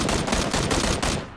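Rapid automatic gunfire from the video game PUBG rattles loudly and continuously in a dense burst lasting just over a second.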